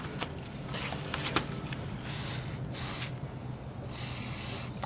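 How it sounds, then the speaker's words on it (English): Several sharp bursts of mass airflow sensor cleaner spray hiss from a can, close by, over a constant mechanical hum, while working on a 2009-2013 Toyota Corolla VVT oil control valve solenoid. "I'm going to spray this down because I don't want the cleaner to go up."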